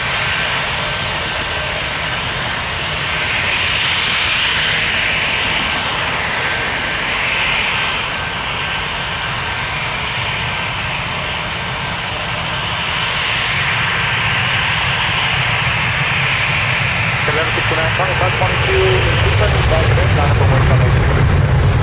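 A jet airliner takes off from runway 23 at Toronto Pearson, its engines a loud, steady roar that holds through the whole stretch and swells slightly near the end, with faint voices beneath.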